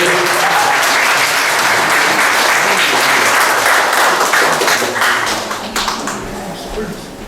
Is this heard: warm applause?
yes